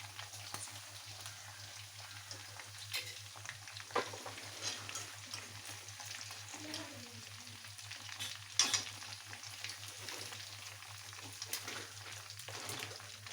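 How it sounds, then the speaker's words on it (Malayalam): A soft, steady sizzle of chicken frying in oil continues throughout, with occasional faint clinks and stirring sounds, no voices. "നമ്മുടെ ചിക്കൻ എല്ലാം വറുത്തെടുത്തു."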